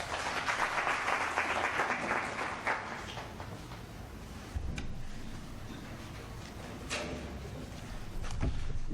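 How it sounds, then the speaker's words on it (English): An audience claps for the Honourable Minister at a land debate event. The applause is full and steady at first, then thins to scattered claps and a few sharp knocks. "Give the Honourable Minister another round of applause."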